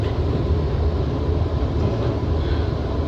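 A train at a heritage railway, a steady loud rumble of rolling wheels and carriages with low-frequency roar throughout, close by and without speech.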